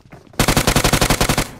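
Rapid automatic gunfire in a video game starts abruptly after a quiet moment, then a loud, close burst of about a dozen evenly spaced shots in quick rhythm.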